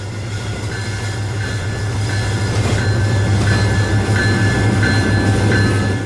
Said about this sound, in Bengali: ওই যে দূরে দেখা যাচ্ছে কপোতাক্ষ এক্সপ্রেস ট্রেনটি আসছে